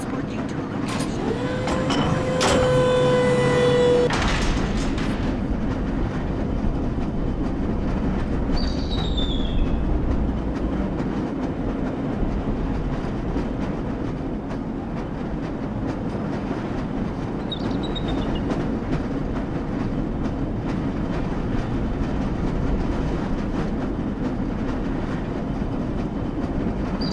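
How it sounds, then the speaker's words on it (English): A lever-controlled rail car in the Black Mesa game starts up with a short mechanical clank and tone, then rolls on with a steady clattering rumble, while a voice speaks over it. "This lever controlled train will transport you to a location."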